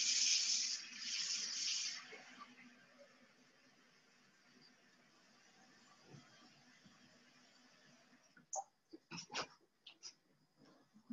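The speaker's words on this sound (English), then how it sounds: "I'll put a bit of water in here" Water running into a pot in a home kitchen while cooking, a bright steady splashing stream for about two seconds that fades into a quiet hiss, followed later by scattered clinks and knocks.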